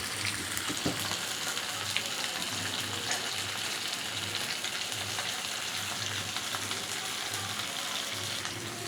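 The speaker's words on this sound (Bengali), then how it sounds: "মাছগুলি ভাজা হয়ে যাচ্ছে।" Turmeric-coated hilsa fish frying in mustard oil, an even, close crackling sizzle with faint stirring clicks and a steady low hum underneath, no talking.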